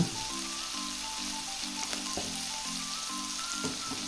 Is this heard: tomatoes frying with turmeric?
yes